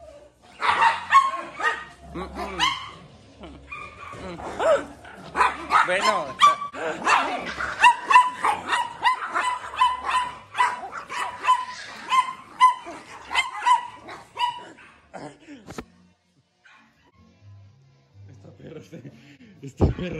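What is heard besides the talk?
two dogs barking and growling while fighting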